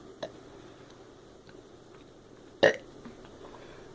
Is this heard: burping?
yes